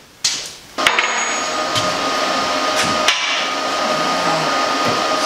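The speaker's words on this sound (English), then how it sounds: "Get the welder and let's get them on." A welder works on metal parts for a Bobcat loader, starting with a couple of sharp pops and then settling into a steady, loud crackling hiss with a few brief breaks.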